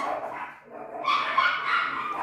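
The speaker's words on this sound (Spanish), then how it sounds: "Son mis perritos, mi amor, perdónenme cada vez que salen como locos." Small pet dogs bark indoors, a burst of sharp, excited yips and barks that rises after a brief lull and keeps going, fairly close and clear with no speech over it.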